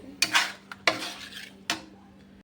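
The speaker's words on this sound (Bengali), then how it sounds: "এটা কষতে থাকি কিছুটা, কষতে কষতে মোটামুটি সুন্দর কালার হয়ে যাবে" Chicken biryani masala with a splash of water being stirred in a pan, a utensil scraping and clinking against the metal in three distinct strokes over a faint sizzle, close and fairly quiet.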